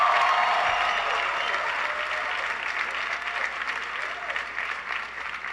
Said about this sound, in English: can everybody please give Faith a big round of applause for the great introduction